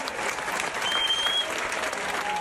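An audience at a political event where Obama spoke bursts into sustained, dense applause as pro-Palestinian protesters are removed, a loud, steady wash of clapping with a faint crowd murmur underneath.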